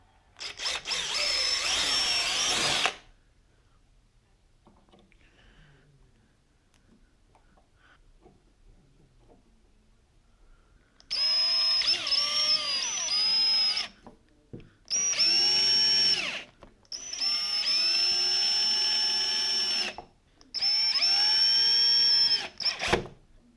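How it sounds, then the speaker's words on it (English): An electric drill bores two holes into the metal of a mini fridge being built into a fermentation chamber, sounding as one short whine and then four loud, high-pitched bursts of a few seconds each, with quiet pauses between them. "now it's time to get 2 holes into the metal, and these are secure now, so the drill bit shouldn't jump"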